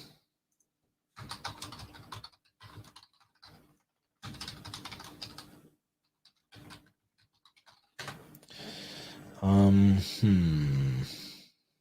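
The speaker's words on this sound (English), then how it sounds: "Let me type it in on Fox here." Bursts of computer keyboard typing come in several separate runs with pauses between them, close up, followed by a short stretch of speech at the end.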